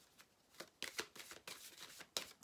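Tarot cards being shuffled and drawn from a deck for an advice card, a quiet run of soft papery riffles and slides with a few sharper snaps, close and alone with no talk.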